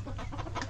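Chickens cluck and murmur near their roost on a homestead farm, with an old rooster among the flock; soft, overlapping clucks come close and steady with no talking.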